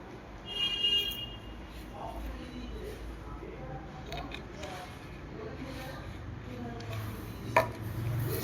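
A boti blade cuts through raw jackfruit with oiled hands, making occasional dull chopping strikes and scraping rustles at moderate volume. Faint voice-like sounds and kitchen noise sit in the background.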